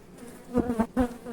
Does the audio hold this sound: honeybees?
yes